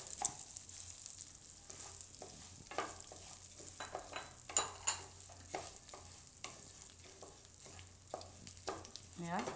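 Millets such as bajra, kang and kodri roast in a hot pan while being stirred. A quiet, dry sizzle comes through with frequent scraping and rattling strokes at close range and no talking.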